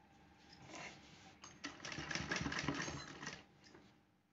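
Sewing machine stitching a folded strip of fabric for a small hand purse, a steady mechanical whir that builds in the middle of the run and then tapers off, close and alone.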